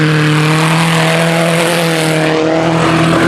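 A loud, droning engine roar from race cars passing close by, including a fast VW Passat, with a sustained tone that shifts slightly in pitch as they go by.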